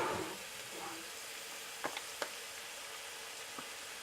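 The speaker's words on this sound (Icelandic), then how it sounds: "Skelli í svona smá hveiti og hræri síðan upp í og læt þetta steikjast aðeins með" Flour and mushrooms frying in a pan for a mushroom pie, giving a steady close sizzle with a few brief ticks and clinks of stirring, no talk.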